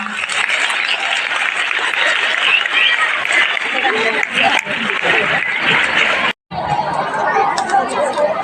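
An audience at a school annual function claps and chatters continuously in a hall, a dense mix of applause, babble and some laughter, briefly cut off near the end before resuming.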